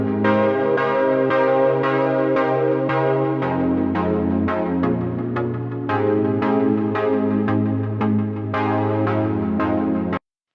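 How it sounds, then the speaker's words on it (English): A bell-like synth preset whose decay is automated in Ableton, playing a sequence of struck tones that ring out with shifting sustain, layered and loud, then cutting off abruptly at the end. "Something really important about this sound is that the decay of the preset is automated by Ableton."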